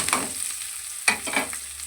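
Two large chopped onions hit hot oil in a pan, giving a steady bright sizzle with a couple of sharper crackling bursts and stirring scrapes, close and moderately loud, no talking.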